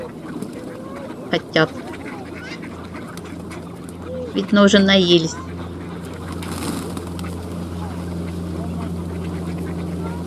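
Ducks quack in a short burst near the water at Tsarskoye Selo in winter, mixed with other birds, over a steady low hum, with a person talking nearby.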